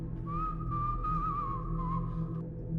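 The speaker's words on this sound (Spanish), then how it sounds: "El silbido siempre estaba ahí, como si me siguiera donde fuera" A single sustained whistle, thin and wavering, holds one eerie tone for about two seconds over a low steady hum.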